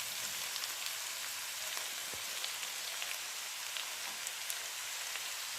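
Onion and garlic frying together in a pan, a steady even sizzle and crackle with scattered pops, close and constant, with no voices.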